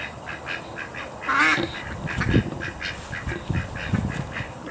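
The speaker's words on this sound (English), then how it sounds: "This chicken wants to be on video." A chicken in a backyard food-forest garden in Florida gives a few short clucking calls, close and clear against a soft outdoor background.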